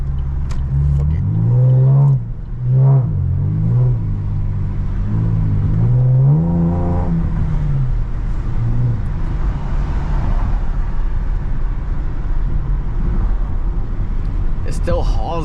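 A Chevrolet Camaro V6 with a muffler delete accelerates on a night drive, its raspy exhaust rising and falling through a few revving pulls, then fading into a steady road rumble. Someone talks over the sound.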